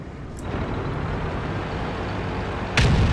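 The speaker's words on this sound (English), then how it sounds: "Some enemy artillery." Enemy artillery fire in the World of Tanks video game: a steady rumbling wash of battle noise, a faint early crack, then a sharp loud blast near the end.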